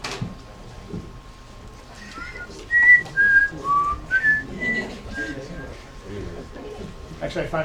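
A person whistles the Jeopardy theme at a poetry slam, a short bright melody of clear notes in the middle, with room noise and some talk around it.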